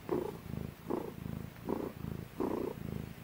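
A cat in labour purrs heavily right beside the microphone, a deep rumbling purr that swells and eases in steady breathing cycles about once every three-quarters of a second.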